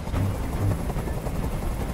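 A helicopter hovering nearby in the video game Detroit: Become Human, heard as a constant heavy rotor rumble with a throbbing low pulse, loud and unbroken, with no voices.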